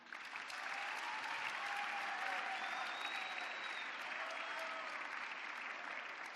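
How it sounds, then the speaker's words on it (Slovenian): Steady applause from a crowd at a student concert fills the space, even and sustained throughout without a break. "Aplavz za vse, za spodbudo."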